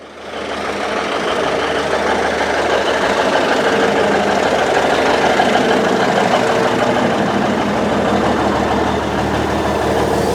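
The engine of a 1971 Autocar A64F truck runs loud and close, a heavy, steady rumbling drone with a knocking texture that swells in the first second and holds throughout, no speech.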